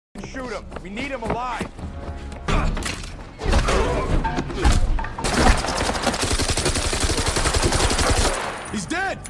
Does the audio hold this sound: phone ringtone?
no